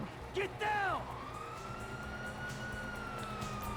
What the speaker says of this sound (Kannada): ಓಕೆ ಪೊಲೀಸ್ ಬರ್ತ ಬಂದ್ರು ಗಾಯ್ಸ್ ಪೊಲೀಸ್